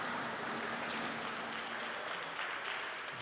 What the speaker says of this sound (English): Rowdy crowd